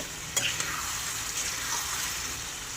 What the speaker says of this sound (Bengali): এগুলো দিয়ে এবার ভালো করে আমি কষিয়ে নেব।